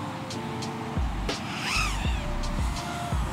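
An FPV freestyle drone's motors rise and fall in rapid throttle blips, sharp revving whines that sweep up and down several times, fairly close, with a broad background hiss.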